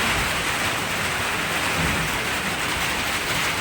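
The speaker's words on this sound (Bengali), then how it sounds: "ঝমঝম করে বৃষ্টি আরম্ভ হয়ে গেছে।" A heavy downpour hisses in a steady, loud, continuous wash of rain under dark storm clouds.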